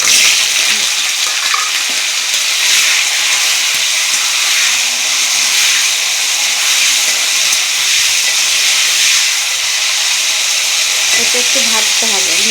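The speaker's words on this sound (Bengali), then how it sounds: "তেল গরম হয়ে গেছে, এই যে সজনাটাকে একটা ঢেলে দিলাম।" Moringa drumsticks tipped into hot oil, already seasoned with mustard seeds, set off a loud, steady frying sizzle and hiss that carries on evenly throughout, with a few faint clinks near the end.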